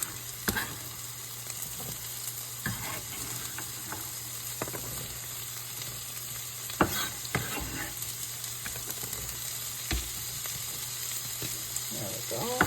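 Celery and carrots sizzling and frying in a pan, a steady soft crackle under occasional stirring clatters and scrapes of a utensil, close and moderately quiet with no talk.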